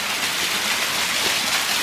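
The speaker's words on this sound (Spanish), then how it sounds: "Miren nomás que bonita cascadita, chiquita. Aquí en este pequeño cañoncito." A small waterfall cascades in a little canyon beside a river, giving a steady, close rushing hiss of falling water with no pauses or voices.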